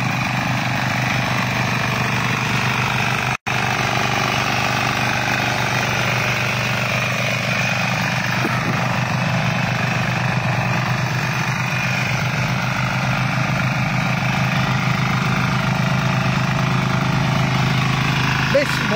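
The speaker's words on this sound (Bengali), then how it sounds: "মজার বিষয় আজকে যে এতগুলা মিনি পাওয়ার টিলার একসাথে চলছে" Several mini power tillers of 6, 7, 10 and 12 horsepower run together in a field, their small engines making a continuous droning, steady chug at close range, with someone speaking over them.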